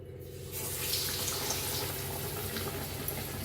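Dipped bread slices frying in hot oil give a steady, close sizzle that swells in after a brief quiet start and holds for a few seconds with no talk.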